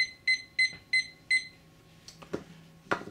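A timer alarm beeps four times in a quick, evenly spaced sequence, clear and fairly close, followed by a few faint clicks and knocks in a quiet room.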